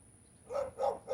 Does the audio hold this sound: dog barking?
yes